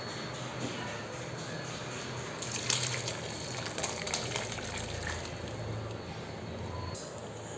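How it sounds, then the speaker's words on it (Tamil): Cooked beef and its liquid poured into fried onion and tomato for a Kerala-style beef curry, giving a steady, soft wet gush and sloshing that runs the whole time, with a few brighter splashes in the middle. "இதை இப்போ நம்ம வதக்கி வச்சுருக்கிற வெங்காயம் தக்காளியில் ஊற்றிக்கலாம்."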